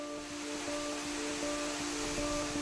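Water from the Canyon waterfall pours into the Mar de Minas reservoir in Minas Gerais, a steady, dense roar of falling water with a faint tonal hum running underneath.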